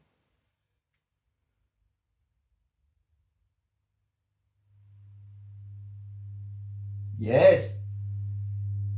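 A steady low 100 Hz sine tone from a subwoofer begins partway through and holds at an even level, with a brief spoken word over it near the end.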